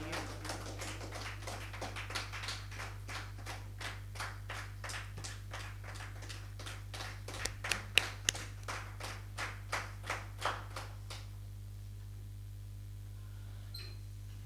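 An audience applauds at a Hindi novel launch ceremony in Tonk, with a burst of claps rising to a few sharp, louder hits before it fades into a quiet room over about eleven seconds.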